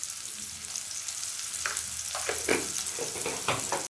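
Onions fry in hot oil with a dense, continuous sizzle, broken by a few sharper scraping stirs toward the end, and no voices.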